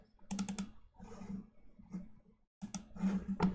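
Computer mouse clicks while working in Blender animation software, sharp clustered clicks in a few separate bursts with quiet gaps between them, close and dry.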